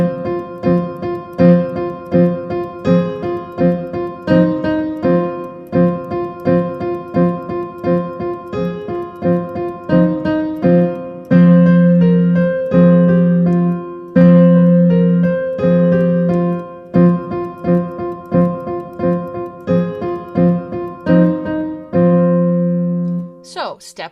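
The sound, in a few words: piano playing the drum song, left hand open fifth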